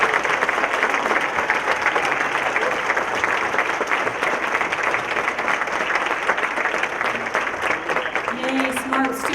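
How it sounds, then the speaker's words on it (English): An audience applauds at a business appreciation breakfast, honouring students recognised for their engineering projects; dense, steady clapping fills the room throughout, with faint voices underneath. "Let's give them a round of applause."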